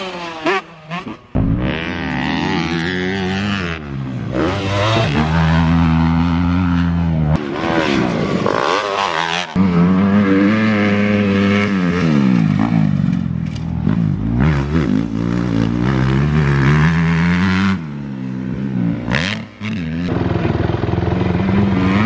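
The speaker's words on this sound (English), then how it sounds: "So this is Ryan's first ride on his 125" A Yamaha YZ125 two-stroke dirt bike is ridden by a kid on his first ride, its engine revving up and down in loud, continuous sweeps that rise and fall close by for the whole stretch.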